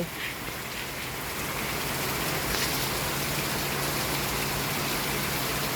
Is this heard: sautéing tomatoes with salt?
no